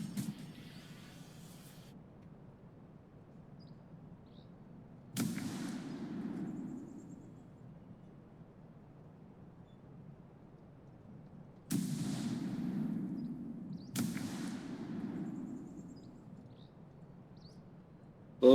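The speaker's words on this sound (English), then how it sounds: "Those Soviet anti-tank rifles." Soviet anti-tank rifle fire in the World War II wargame Second Front: about five loud, sharp shots spaced several seconds apart, each followed by a rumbling decay over a low background, with no talk.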